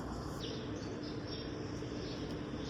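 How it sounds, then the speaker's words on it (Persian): Sparrows chirp faintly in a backyard on a calm morning. Their thin, scattered calls sit over a steady low background hum, with no one speaking. "صدای گنجشکار میشنوی؟"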